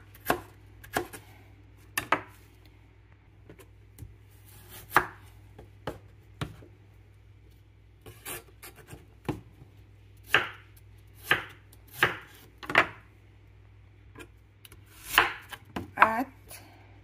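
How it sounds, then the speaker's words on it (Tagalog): Chayote being sliced into small pieces with a knife on a cutting board, a series of crisp, close chops at an uneven, unhurried pace with short quiet gaps, occasionally two or three in quick succession. "sayote to na in-slice ko ng maliliit"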